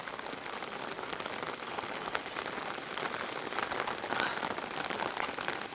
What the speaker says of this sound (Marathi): पाठच पाऊस चालू झाला